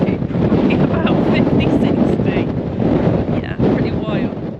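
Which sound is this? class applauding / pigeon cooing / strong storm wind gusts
strong storm wind gusts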